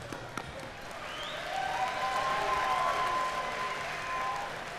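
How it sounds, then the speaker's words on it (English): Applause for mixed martial arts fighter Rory MacDonald at a PFL event, a broad wash of clapping from an audience that swells and holds steady, with some crowd noise mixed in. "So hand of applause for Rory."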